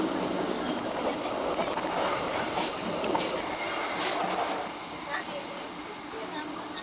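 A Brantas passenger train rumbles steadily along the tracks at about 90 km/h with a continuous rushing roar and faint clattering, heard from inside an economy-class carriage, with a voice talking over it.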